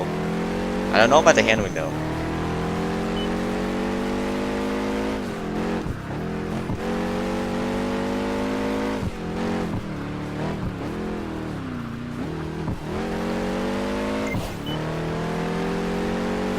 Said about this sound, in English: It has a good engine sound towards everything.